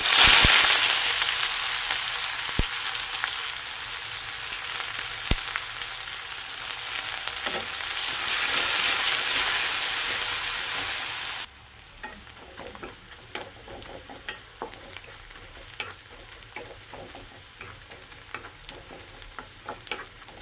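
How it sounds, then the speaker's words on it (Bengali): Chopped onions frying in a pan with panch phoron, a dense steady sizzle for about eleven seconds that then drops to a quieter crackle with scattered pops and stirring taps. "এবার পেঁয়াজ কুচিটা ভাজা হয়ে গেছে"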